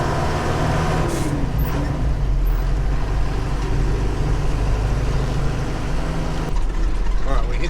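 A 6x6 Perentie ambulance's diesel engine drives steadily on a lap to warm up, giving a continuous, fairly loud low drone with a constant rumble and no break across the whole stretch.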